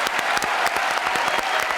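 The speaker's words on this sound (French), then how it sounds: "Applaudissements pour Pierre Benoît" Audience applause for Pierre Benoît on a French television variety show, dense and steady clapping from a crowd throughout.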